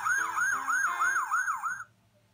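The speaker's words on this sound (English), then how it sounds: "The siren on my roof goes." A toy fire engine siren from a VTech musical toy wails in a quick rising-and-falling electronic pattern, about six cycles, close and clear, then cuts off abruptly.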